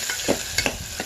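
Mint, ginger-garlic paste and tomato frying in oil for mint pulao, stirred in the pan: a few scraping stirs over a soft, steady sizzle, close and brief.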